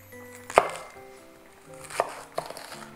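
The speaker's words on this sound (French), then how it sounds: "Et c'est là, je coupe déjà en 2 de longueur. Je coupe le trognon." A knife chops through leafy vegetable leaves and the tough core on a cutting board while preparing sukiyaki: a few sharp, close strikes at uneven intervals over faint background tones.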